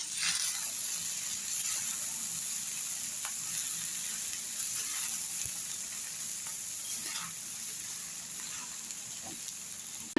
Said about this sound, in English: Now we are adding the basmati rice to it because the veggies are already almost done, and we will just saute it for 2 minutes